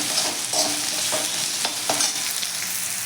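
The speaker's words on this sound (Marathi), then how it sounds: "इथे आपला बटाटा परतून होत आहे" Potatoes sauté in oil for a brinjal and potato curry, a spatula scraping the pan in a few distinct strokes over a close, continuous sizzle.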